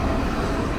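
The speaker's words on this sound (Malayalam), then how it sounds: "ട്രെയിൻ പോണത് നല്ല" A train rolls past on rail tracks, giving a steady, loud broadband rumble with no clear breaks over a short stretch, and no talk over it.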